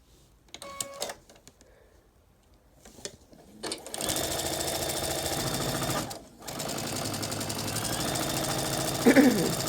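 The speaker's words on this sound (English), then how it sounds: "I sew with this piece up so that I can see where the intersection is" A sewing machine stitches quilt pieces from rainbow fabric scraps. Soft handling noises come first, then the motor whirs in a steady run, pauses briefly and resumes to the end.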